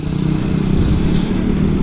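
A Honda Vario 160 ABS motor scooter engine runs steadily with a loud, close, buzzing drone and rushing wind.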